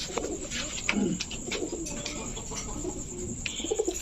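A pair of khoira gola (brown-necked) pigeons, male and female, coo softly and repeatedly at close range, with low throaty murmurs over steady background noise.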